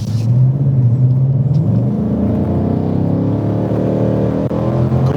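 A 2015-or-newer Ford Mustang's exhaust rumbles loudly and steadily up close, its deep drone rising in pitch as the engine revs, with no talking.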